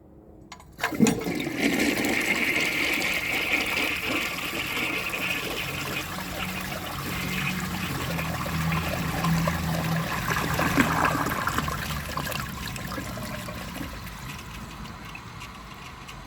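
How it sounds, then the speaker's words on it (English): A 1968 Peerless toilet with a 1966 tank flushes with a sharp start, then a loud, steady rush of water runs on for over ten seconds with gurgling and trickling as the bowl drains and refills. "Let's give this a flush and see how it does."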